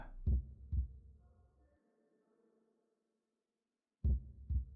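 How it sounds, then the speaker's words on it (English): Heartbeat sound effect from the video game Urban Myth Dissolution Center: two deep, loud thuds, a long quiet gap with a faint hum, then another pair of heavy lub-dub beats. "Oh god, I don't like that heartbeat."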